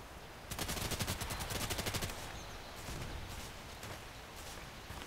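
Handgun fire in a sniper video game on the Old Sawmill map: a fast burst of rapid shots in quick rhythm, followed by a few scattered, fainter pops, with no talking over it.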